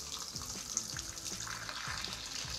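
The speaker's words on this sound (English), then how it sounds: "I'm gonna start by turning our water on" Water runs from a Delta T17 Series kitchen faucet, a steady splashing stream into the sink with a hissing spray and small gurgles, close and continuous with no voices.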